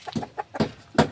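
Short bursts of chicken clucking, several broken calls close by over about a second, with brief quiet gaps between them.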